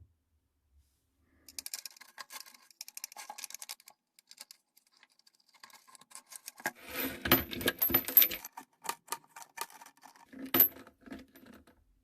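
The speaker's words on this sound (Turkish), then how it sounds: "Ve anahtarımızı daha iyi sıklaştırıyoruz alt taraftan." Wrench tightening the underside nut of a bathroom sink faucet: bursts of small metallic clicks and rattles, then louder ratcheting scrapes and clanks close up, with a sharp clink near the end.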